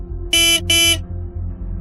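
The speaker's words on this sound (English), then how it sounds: "he honks the motorcycle horn a few times" A motorcycle horn at a house's closed main gate gives two short, loud, buzzy honks in quick succession over a low idling engine rumble.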